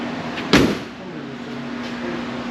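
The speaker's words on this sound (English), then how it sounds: "Shut the door here so you can see." A Mustang door slams shut once with a single sharp, solid thud, close by, followed by a low steady hum.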